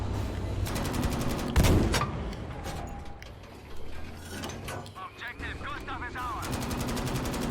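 Tank gunfire in Battlefield 5, a loud blast followed by bursts of rapid machine-gun fire and clanking mechanical sounds amid busy battle noise, with a voice talking over it.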